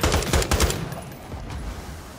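Rapid automatic gunfire aimed at zombies in Call of Duty: Modern Warfare 3 comes as a quick burst of close, loud shots in the first half second, then fades into a lingering rumble and ambient noise.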